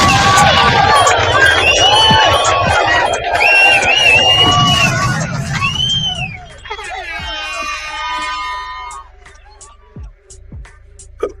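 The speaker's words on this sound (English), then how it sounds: "Give them some big claps and noise." Audience cheering and clapping in response to a call for applause, a loud crowd roar with shouts and whoops that fades into scattered voices and cries after a few seconds.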